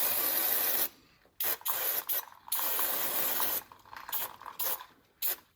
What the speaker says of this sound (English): I'll get some degreaser. I'll just clean up that area there.